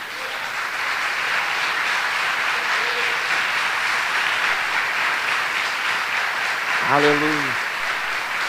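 A church congregation applauds continuously in a broad, steady wash of clapping, and a voice briefly calls out near the end.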